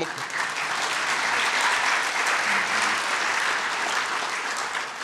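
Sustained audience applause fills a Sports Broadcasting Hall of Fame ceremony hall, steady and dense throughout with no break, carrying alone without any talk over it.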